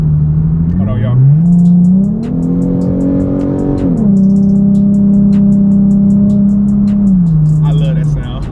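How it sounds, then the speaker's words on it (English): Ford Mustang fitted with a Pipes catback exhaust accelerating, a loud deep engine note climbing in pitch through shifts, holding a steady drone, then easing off near the end, close and dominant throughout. "the exhaust that I run on my car is the Pipes catback exhaust"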